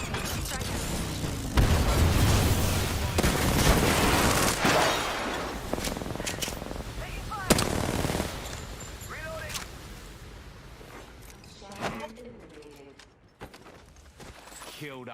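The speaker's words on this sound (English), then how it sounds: "I'm taking shots. Opening fire." Video game gunfire crackles in repeated bursts early on, loud and dense, then thins into scattered shots and game effects as the fight winds down.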